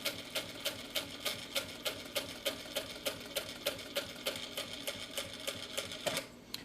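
A Vevor M2 industrial sewing machine stitches at a steady, even pace, each needle stroke a crisp mechanical thump repeating about three times a second, close and alone, before stopping near the end.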